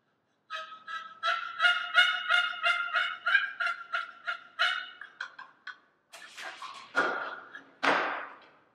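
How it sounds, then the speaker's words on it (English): A turkey call, a museum artifact, runs through a series of rhythmic, close yelps, then a few louder, raspier notes at the end, with no voices. "one of the most common calls for anyone to use with any of these type of calls is called a"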